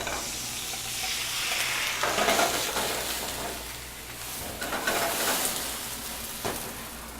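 Lobster sizzling and frying steadily in a hot pan, flambéed with sherry, with stirring and spatter bursts throughout and no talk.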